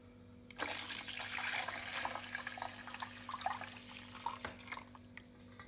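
Water, 2.5 liters, poured onto blended oranges makes a soft, continuous splashing and trickling for several seconds, fairly quiet against a low steady hum.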